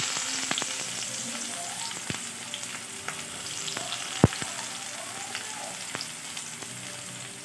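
Onions fry in hot refined oil with a steady close sizzle, punctuated by a few sharp utensil taps and clicks against the pan.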